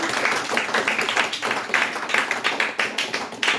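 An audience at a comedy show claps in brisk, uneven bursts, many hands close by, rising and falling over a few seconds without talk.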